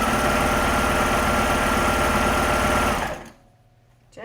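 Sewing machine stitching a stretchy hoodie cuff in the round, running in a fast steady whir for about three seconds, then stopping abruptly into near silence with a brief click at the end.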